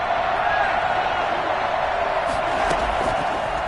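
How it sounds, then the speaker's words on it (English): Football stadium crowd roaring ahead of a big third down in a Kansas City game, a dense, sustained wash of cheering noise with no clear breaks. "The crowd getting into it as we come up on a big 3rd down."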